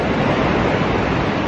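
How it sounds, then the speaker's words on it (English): High ocean waves rolling onto the shore on a foggy, cold morning at a beach house, heard as a loud, continuous roar of surf with no gaps and no voices. "The waves are coming in high."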